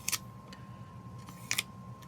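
Small scissors snip paper in a planner, giving two sharp close-up cuts about a second and a half apart, with faint lighter clicks between them over a quiet background with a steady hum.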